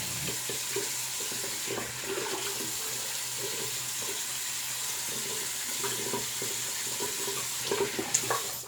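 A water tap runs steadily into a sink while a razor is rinsed after shaving, a continuous close hiss with faint splashing and a few clinks near the end.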